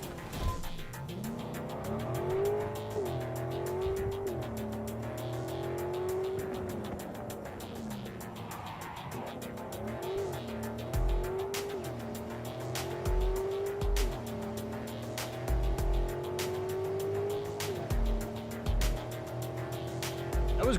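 Car driving in the Cyberpunk 2077 video game, a steady engine hum shifting in pitch with repeated tire squeals and low thumps as it swerves, continuous and fairly close.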